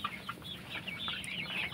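Cock chickens on a poultry farm cluck and chirp continuously in a busy flock, a dense layer of short overlapping calls that stays fairly steady throughout, with no voices.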